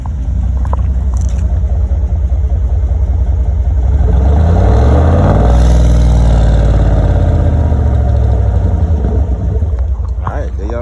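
A Chevy Tahoe with a muffler delete revs once at a muffler shop, a loud, deep exhaust rumble that swells in the middle and settles back to a throaty idle, with voices in the background.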